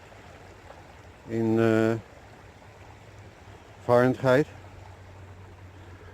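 A creek flows in winter with a steady, soft rushing wash throughout, while someone speaks briefly over it at close range.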